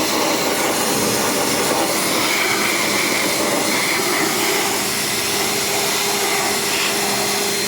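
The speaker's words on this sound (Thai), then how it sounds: "ฉีดล้างทำความสะอาดฝุ่นให้นะคะ" Pressurised water spray blasts dust from the air-conditioning condenser of a 2019 Toyota Yaris, a steady loud broadband hiss running unbroken throughout with no talk.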